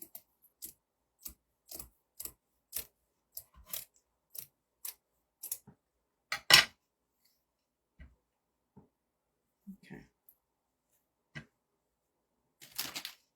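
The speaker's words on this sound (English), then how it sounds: "I'm going to cut this in half." Sharp scissor snips cut material for handmade rustic Christmas ornaments, a series of crisp isolated clicks at irregular intervals with quiet gaps between them.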